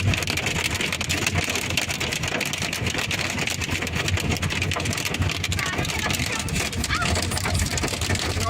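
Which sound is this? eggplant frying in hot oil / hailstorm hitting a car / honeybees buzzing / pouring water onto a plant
hailstorm hitting a car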